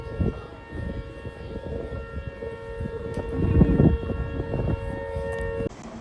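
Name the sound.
siren sounding at the end of a blackout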